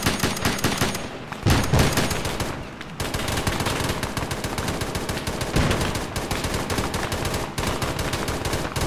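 Sustained bursts of automatic gunfire with scattered single shots in a military video game, loud and dense throughout with brief lulls, during an urban firefight against an occupied building.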